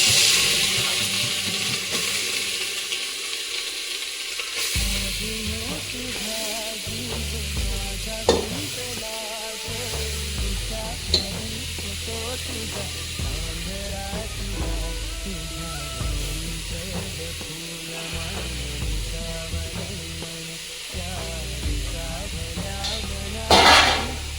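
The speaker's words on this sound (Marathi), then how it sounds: "गाजर स्वच्छ धुवून किसून घेतलेली आहेत आता हे आपण या तुपात घालूया" Grated carrots sizzle in ghee inside a pressure cooker while being stirred, a steady frying hiss broken by scraping and clanks of the spoon against the metal, with occasional louder knocks near the end.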